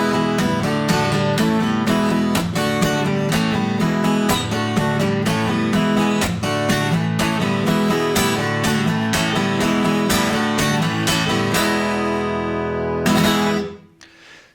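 Strummed guitar playing the three-chord song Gloria by Them in a steady, dense rhythm, loud and close throughout, ending on a final ringing chord that fades out.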